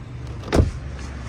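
A short motorized whir from a 2013 Ford Focus Titanium as a door edge protector retracts, one brief close sweep rising out of a quiet car interior background.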